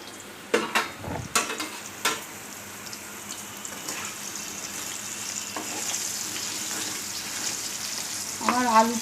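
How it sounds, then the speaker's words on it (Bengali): Potatoes frying in oil for a chital fish belly kalia give a steady close sizzle, with a few clattering stirs early on and a brief scrape near the end; nobody speaks. "আমার আলুটা ভাজা হয়ে গেছে"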